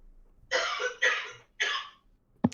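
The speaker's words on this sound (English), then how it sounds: "Someone coughing very loud off screen." Three loud, harsh coughs in quick succession, close by, followed by a brief sharp click.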